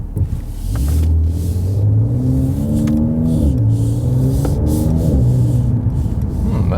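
A 2019 facelift Mercedes C43 AMG in sport mode revs its engine in several rising and falling pulls, a loud close growl with gear-like steps and a deep rumble underneath, no talking.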